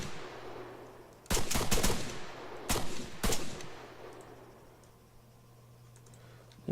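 Gunfire in the video game Arma III: a few sharp bursts of shots, two clustered volleys then two single cracks, loud and close over a steady low game hum, with quiet background noise between.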